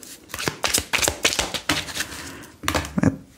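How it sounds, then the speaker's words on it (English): Oracle cards being shuffled by hand in a run of crisp, rapid riffling bursts with short pauses between, close and fairly loud, no talking. "So I'm going to stop shuffling here because I could just keep going and going and going."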